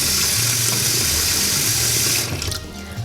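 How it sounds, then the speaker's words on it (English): Tap water runs steadily into a kitchen sink for about two seconds, a strong continuous rush, then is shut off, leaving a quieter room hum and a few faint splashes. "we're going to kind of fill up the sink first"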